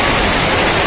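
Floodwater rushes past a house in the countryside, a loud, continuous broadband roar of flowing water like a river, close and unbroken.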